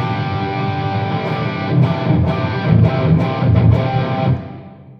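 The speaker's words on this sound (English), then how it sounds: "a rhythm sound that goes through a Soldano amp through the Synergy rig" Electric guitar rhythm tone played through a Soldano amp and Synergy rig: loud, heavily distorted sustained chords with a few rhythmic chugs, ringing out and fading at the end.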